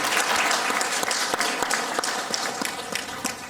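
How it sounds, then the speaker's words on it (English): Steady, dense applause from a crowd at a launch event, many hands clapping continuously at close range with no voices rising above it. "I think a round of applause is in order."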